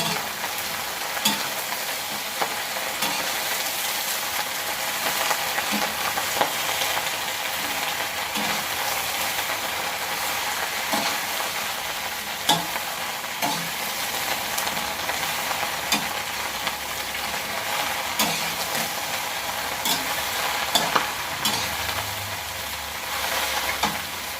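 Vegetables sizzle steadily in a hot wok, with repeated scraping and clacking of a spatula as they are stirred and tossed.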